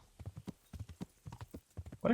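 Horse hooves clip-clop in the medieval game Kingdom Come: Deliverance, a brisk irregular run of close thuds that ends in a louder burst, with a voice speaking alongside.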